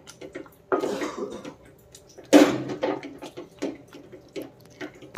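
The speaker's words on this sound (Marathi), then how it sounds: "तर आता मॅशरने आपण असं याला मॅश करून घेणार आहोत." A masher squashes cooked tomatoes in a pan with soft, wet squelching pushes and occasional clinks of metal on the pan, irregular strokes heard up close.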